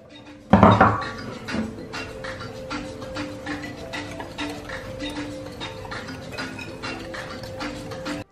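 A whisk or utensil ticks rapidly and steadily against a bowl while sugar, cornstarch and two eggs are mixed, opening with a louder clatter and then settling into an even clicking rhythm.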